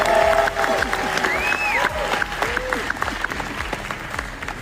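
Audience applause with scattered cheers and whistles in a large hall, steady and fairly loud throughout, with a few faint voices underneath.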